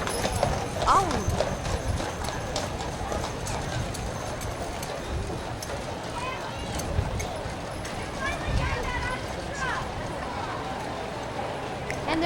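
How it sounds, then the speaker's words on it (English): Two horses' hooves clip-clop steadily on pavement in a 1993 Heritage Days parade in Waverly, Iowa, moderately close, with crowd chatter and voices in the background. "Two beautiful horses. The manes are done beautifully."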